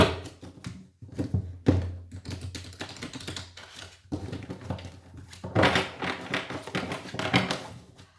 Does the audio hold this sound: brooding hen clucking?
no